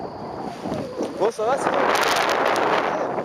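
Strong wind buffeting the microphone during a paragliding launch, a steady broadband roar that swells and persists under a man's speech.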